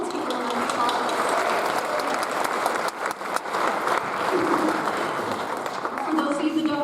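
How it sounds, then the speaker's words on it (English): Sustained round of applause from an audience at a university psychology and neuroscience department winter recognition ceremony, dense, steady clapping throughout with a brief dip midway. "Let's give her a round of applause."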